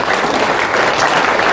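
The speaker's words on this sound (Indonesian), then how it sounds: "Sekali lagi tepuk tangan untuk polisi ini Pak" A dense, loud burst of audience applause for the police, many hands clapping together in a continuous roar close by.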